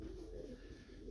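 Pigeons coo in a pigeon loft, a soft continuous low cooing that sits close but quiet, with no voices over it.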